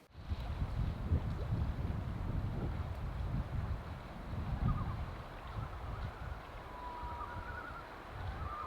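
Wind rushes steadily through a Boundary Waters campsite, a low continuous roar with buffeting gusts against the microphone.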